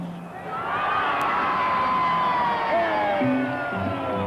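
Crowd at a 1960s–70s Valleys rugby league grand final erupts in sustained loud cheering and whistling after East's win, a dense roar of many voices filling the stands.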